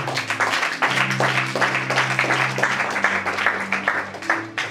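A congregation applauds through a French-language Bible teaching on Exodus: dense, steady clapping fills the whole stretch at moderate volume, with sustained low keyboard tones underneath.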